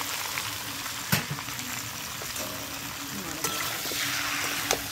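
Chicken sautéing in a pan for a traditional recipe, with a steady close sizzle and a few brief clinks or stirring knocks.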